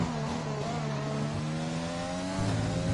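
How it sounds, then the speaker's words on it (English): Racing-game car at Sochi in an esports league race, its engine droning steadily with layered harmonic whine and a faint squealing edge from the tyres, rising slightly near the end, with no talk. "You could hear some tyre squeal there."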